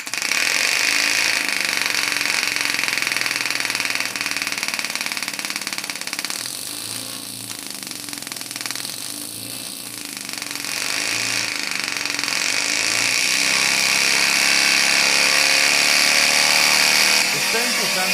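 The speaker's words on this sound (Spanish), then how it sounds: "con una nueva cabeza de cilindro y un colector de aire, el motor ahora estaba perfectamente hermético y sonaba mucho mejor" A homemade compressed-air engine with a new cylinder head and air manifold runs hard up to about 4,500 RPM, giving a loud, steady mechanical buzz that dips briefly mid-run, with a voice speaking over it.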